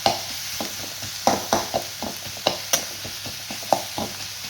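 Onions frying in oil in a pan for an eggplant masala, a steady close sizzle broken by repeated clinking stirs of a spoon or spatula, no talking.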